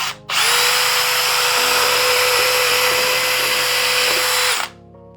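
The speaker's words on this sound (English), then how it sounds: "So now we got our holes drilled." A power drill boring holes into a homemade animated crystal ball prop, a loud sustained high whine for about four seconds that starts and stops abruptly, with no voices.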